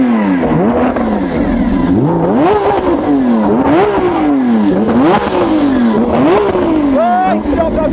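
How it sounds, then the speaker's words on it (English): Repeated sharp throttle blips from a Lamborghini Aventador SVJ V12, about six loud rising-and-falling revs in a row, each pitch sweep climbing and dropping back to a near, throaty idle. "Wow, let's have some revs."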